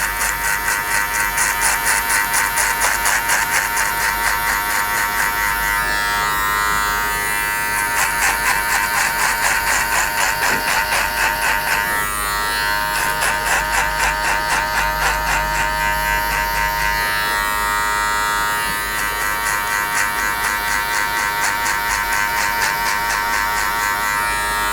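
Electric hair clippers fitted with a number 2 metal guard buzz steadily and loudly throughout while cutting a skin fade, with a constant motor hum whose tone shifts slightly as they move through hair.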